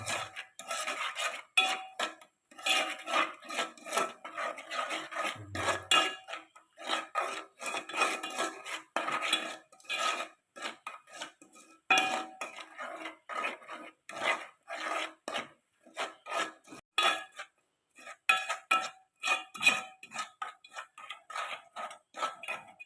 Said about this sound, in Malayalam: ഇനി ഇവിടെ അരിപ്പൊടി കുറച്ച് കുറച്ചായിട്ട് ഇട്ട് കൊടുക്കുക ഇളക്കി സെറ്റാക്കണം